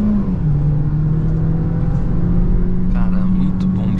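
Peugeot 208 Allure 1.6 automatic accelerating at full throttle, a steady loud engine drone holding a constant pitch throughout, heard from inside the cabin with light background noise.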